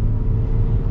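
Toyota Tacoma truck with a 4.0-liter V6 pulling away, giving a steady, loud low rumble of engine and drivetrain close by throughout the short moment, with no talk over it.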